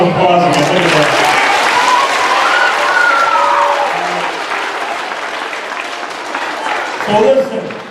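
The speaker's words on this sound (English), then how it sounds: "Give Chris a round of applause again." A school assembly crowd at a middle school applauds again for a student named Chris, loud broadband clapping that gradually thins and fades, with voices and a brief speaking voice near the end.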